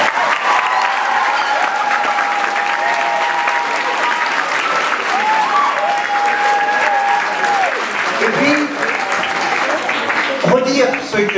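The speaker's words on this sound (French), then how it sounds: "vous pouvez vous applaudir" A conference audience claps steadily throughout, dense and even, with some voices and a brief murmur of talk near the end as the clapping tapers.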